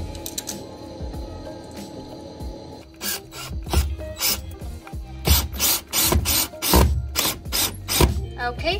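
A screw is driven with a ratcheting tool, giving loud close bursts of rapid clicking in quick repeated strokes after a quieter start with light handling noises.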